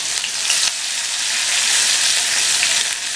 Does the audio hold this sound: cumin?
yes